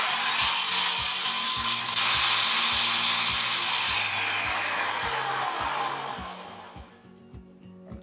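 A blender whirs loudly and steadily as it purées a pepper sauce for Mexican chicken posole. The motor winds down and stops near the end, leaving a few faint knocks.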